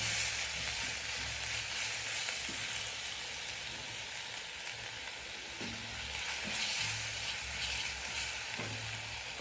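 Masala for a Kottayam-style fish curry fries and gets stirred in a pan, giving a continuous soft crackling sizzle with occasional scraping strokes, close but fairly quiet, no talking.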